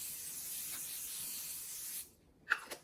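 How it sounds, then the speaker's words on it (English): A Caudalie moisturizing grapeseed face spray releases a long, steady hiss up close, followed by a couple of short, sharp pumps. "it is a moisturizing grapeseed spray"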